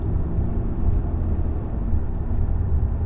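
Steady low road rumble fills the cabin of a 2019 Honda Insight Touring hybrid driving in electric mode, with no engine sound, just continuous tire and pavement drone at a moderate level.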